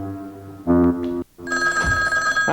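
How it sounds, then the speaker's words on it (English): A telephone rings nearby with loud, sustained tonal bursts separated by a brief pause, clear and prominent in a quiet room. "when the phone rang"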